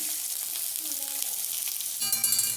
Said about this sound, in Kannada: ಫಸ್ಟ್ ಈರುಳ್ಳಿ ಚೆನ್ನಾಗಿ ಫ್ರೈ ಮಾಡ್ಕೊಳ್ಳೋಣ